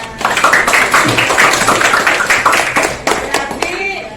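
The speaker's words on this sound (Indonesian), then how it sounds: "Tepuk tangan dong semuanya." A classroom of students claps together for a classmate, a dense burst of many hands close by that runs steadily for about four seconds, with a voice or two breaking through near the end.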